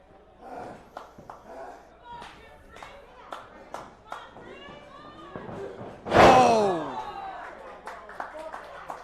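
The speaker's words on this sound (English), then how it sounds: "Oh, big scoop slam." In an indoor academy wrestling match, a wrestler's body crashes onto the ring mat after a scoop slam, one sharp loud boom that rings out, amid scattered crowd claps and commentary.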